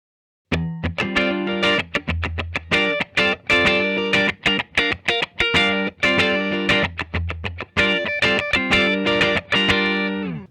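A 2021 Oaklyn 626 Purple Reign electric guitar rings out through heavy distortion, loud and close, playing choppy rhythmic chords with sharp stops and sustained notes, with no talking.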